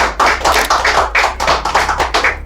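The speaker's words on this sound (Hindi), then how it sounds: "तो सभी लोग इनके लिए ताली बजाएं।" Loud, close clapping from a small audience at a CCTV training certificate ceremony, a quick, rhythmic run of sharp claps at a steady beat.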